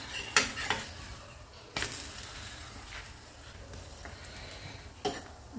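Bajra thepla cooks on a griddle as oil and ghee are added around its edge, giving a low, steady sizzle with a few sharp spatula scrapes and clinks and no talk.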